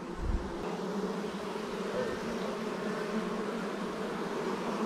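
Honeybees moved from a swarm trap into a ten-frame hive hum in a dense, continuous buzz close by, with no voices.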